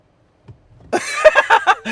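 A ZEEKR 7X car plays a cat-meow sound effect outdoors: a brief soft rustle, then a loud series of drawn-out, tonal electronic meows.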